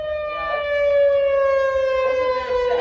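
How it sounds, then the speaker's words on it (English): A single outdoor storm warning siren during a monthly test in Frisco, Texas wails steadily, its long rising and falling tone holding for the whole stretch with light background noise. "that siren you hear in the background is the storm siren"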